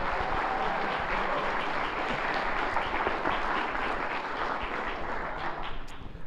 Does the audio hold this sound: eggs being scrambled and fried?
no